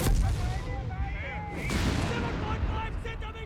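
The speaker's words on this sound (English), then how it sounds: "Got the artillery piece hard at work." Artillery fire in the Company of Heroes 3 strategy game, repeated booms and gunfire rumbling continuously through a busy battle mix while a commentator talks over it.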